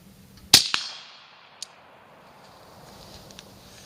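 A single sharp gunshot rings out at night toward a target about 70 yards away, followed by a quick second crack, a fading echo tail, and a faint click later in an otherwise quiet setting.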